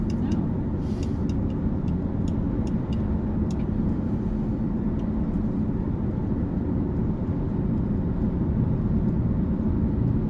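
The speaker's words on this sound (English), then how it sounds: "And a car coming at us with no headlights on." A car approaching on a road in Yellowstone National Park with its headlights off, a steady engine and tire rumble heard from inside a moving vehicle, with a few faint clicks early on.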